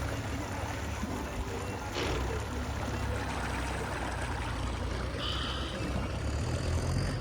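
Tractor running in farm fields during puddling work, a steady, continuous low engine rumble close by, mixed with running water sounds and no clear talk.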